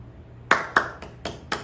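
Five sharp hand claps ring out at a slow, steady pace in a quiet church room during a Sunday service, each close and distinct.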